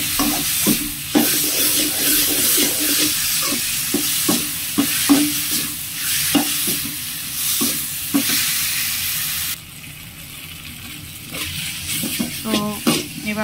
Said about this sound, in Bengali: কিছুক্ষণ এভাবে নেড়ে নেব।